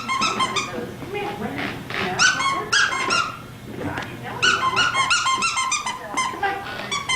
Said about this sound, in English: there he is, the wonder dog. Kodiak.